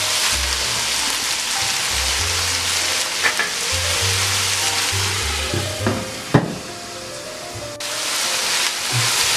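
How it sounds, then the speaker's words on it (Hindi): Minced meat and softened tomatoes fry steadily in a pan for aloo mattar qeema, a continuous broadband sizzle with a few scraping stirs and one sharp utensil knock, no talking. "कीमा अच्छे तरीके से भुन गया है"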